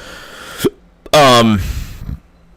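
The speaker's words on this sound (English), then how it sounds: "I have the hiccups really bad" A person's sharp hiccups, close and loud: a short abrupt catch followed by a longer voiced hiccup with a brief tail.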